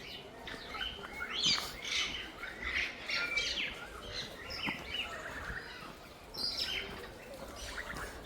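Birds in an aviary at an ecopark in Hyderabad squawking and chirping continuously, several overlapping high calls at a moderate distance with no talking.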